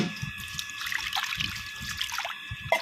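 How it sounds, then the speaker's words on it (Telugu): Raw prawns being washed by hand in a bowl of water with salt and turmeric, giving soft, continuous splashing and sloshing with small drips, close and steady. "ఇట్లా ఉప్పు పసుపు వేసి బాగా ఇట్లా వేసి కడుక్కోవాలి బాగా శుభ్రంగా ఒక నాలుగైదు సార్లు కడుక్కోవాలి"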